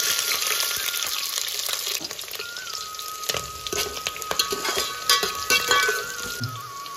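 Large cut onion pieces fry in ghee with mustard seeds and curry leaves, giving a steady crackling sizzle with scattered pops and occasional stirring clatter, close and continuous.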